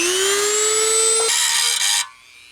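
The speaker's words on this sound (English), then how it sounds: "we've got to use a Dremel in this corner" A Dremel rotary tool grinds a ground lead spot on a tube amp chassis, its high whine holding close and loud, then shifting pitch as it bites the metal before spinning down.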